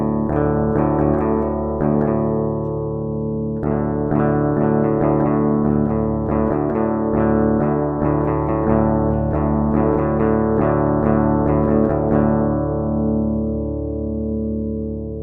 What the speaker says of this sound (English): I will show you how the clean guitar signal sounds like